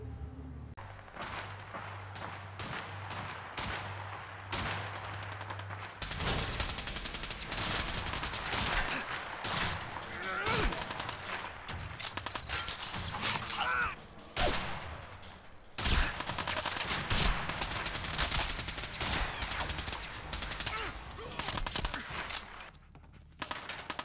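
Gunfire in a Fallout 4 firefight, scattered and clustered shots and bursts of varied loudness trading back and forth over about twenty seconds, some close and sharp, others more distant.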